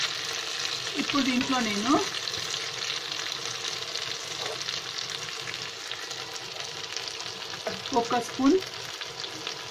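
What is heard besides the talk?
stuffed eggplants frying in a pan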